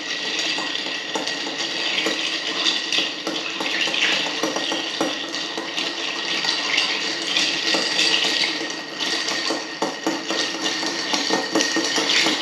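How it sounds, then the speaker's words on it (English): A martini is stirred with a stirring rod in a mixing glass, giving a steady, continuous wash of soft clinking and swirling liquid at close range, with no talking. "Now we're going to take a nice stirring rod and we're going to stir that up."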